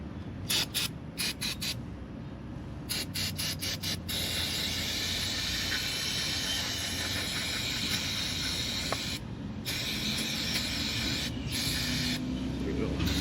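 Cleaner hisses in steady, fairly quiet bursts onto a Kawasaki FB460V carburetor. Short rapid squirts in the first seconds give way to a long continuous spray, with a couple of brief pauses later on.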